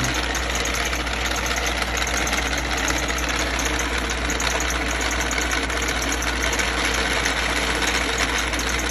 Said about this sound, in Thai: เสียงเวลามันมีโหลดอ่ะ มันจะดึงรอบเครื่องมันจะดึงรอบ มันก็จะดัง ดังแบบหนัก